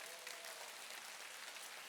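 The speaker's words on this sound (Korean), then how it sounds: "박수 한번 주세요." A seated audience at a sales seminar breaks into applause, an even wash of many hands clapping at low volume, steady throughout with no speech on top.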